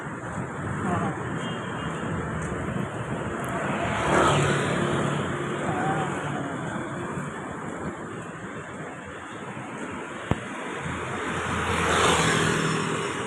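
Road traffic on Doroteo street rolls past as a steady, fairly loud wash of engines and tyres, with a single sharp click standing out briefly and voices faintly audible within the noise.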